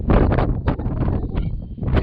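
Strong wind buffeting the microphone while descending La Soufrière volcano in Guadeloupe, loud continuous roaring gusts with rough, uneven rumbling throughout.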